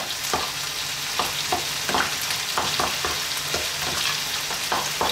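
Spices are stirred into lamb dopiaza curry frying in a pan, with a busy sizzle and repeated sharp scrapes of the spoon against the pan at an uneven rhythm, close and clear, with nobody talking.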